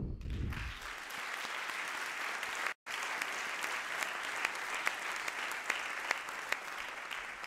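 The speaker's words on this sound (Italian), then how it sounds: "Gli facciamo un applauso." Audience applause at a youth assembly of local administrators in Treviso, a steady dense clapping from a sizeable crowd that fills the whole stretch, briefly cut off for an instant midway, with no talk over it.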